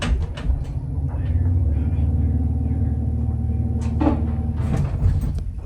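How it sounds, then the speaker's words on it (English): A 1946 Westbrook single-speed traction elevator motor running in a small building's basement, a steady low hum and rumble with a few clanks and thumps near the end, fairly loud and close. "Listen to the motor."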